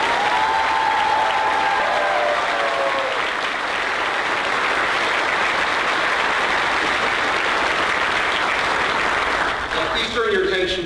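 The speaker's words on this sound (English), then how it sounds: "How about one more round of applause for Nellie Nicolova?" Sustained applause from a large high school graduation audience, loud and dense for about ten seconds, with a brief voice over the clapping at the start and faint cheers near the end.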